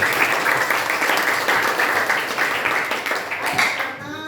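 A grade 8 class claps together in a classroom, giving a loud, busy round of applause with scattered voices mixed in, before the clapping thins out and fades near the end.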